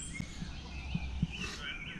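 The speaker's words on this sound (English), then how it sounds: "Lots of birds making lots of noise." Many birds call and chirp at a riverside campground in Illinois in the morning, scattered tweets over a busy outdoor background, moderately near.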